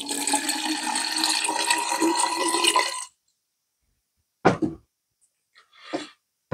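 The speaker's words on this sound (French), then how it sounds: "on va se remettre une petite dose d'eau" Water pours steadily into an OKO filter bottle for about three seconds, a close, loud, gushing splash that stops abruptly, followed by silence broken by a few brief knocks and rustles.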